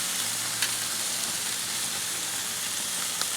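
Asparagus and pork steak sizzle on a grill, a steady fine crackle with a couple of faint pops, close and fairly quiet, with no talking.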